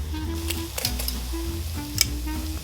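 Crushed garlic and caramelised onions sizzling in a pot for French onion soup, a steady close frying hiss with a few stirring clicks and scrapes, heard alone.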